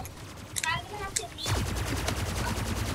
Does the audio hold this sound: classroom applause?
no